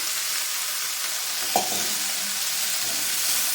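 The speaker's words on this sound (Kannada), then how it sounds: "ನಾನು ಕ್ಯಾರೆಟು ಮತ್ತು ಕ್ಯಾಪ್ಸಿಕಮ್ ಇಟ್ಕೊಂಡಿದ್ದೀನಿ ಅದನ್ನು ಹಾಕೋತಾ ಇದ್ದೀನಿ" Carrots and capsicum dropped into a hot oiled pan for a mixed vegetable dish, a steady loud hiss of sizzling with one brief thump as the vegetables land, then continued frying.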